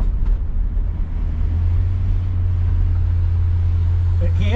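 A 1966 Ford Galaxie 500 convertible on new tires rolls along with a steady, loud low engine and road rumble that holds constant throughout, with no one speaking.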